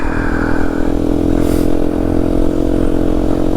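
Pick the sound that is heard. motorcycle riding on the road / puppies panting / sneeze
motorcycle riding on the road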